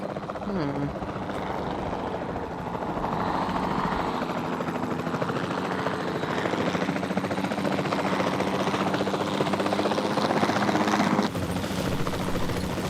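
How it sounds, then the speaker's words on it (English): A capture team helicopter flies in Jurassic World Evolution 2, its rotor beating in a loud steady thrum that holds throughout, with a voice speaking over it. "Then the sensible thing is to take a capture team helicopter. You can trank it from the air."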